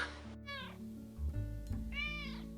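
A cat meows twice, close and clear, a short cry near the start and another about a second and a half later, over a low steady background hum.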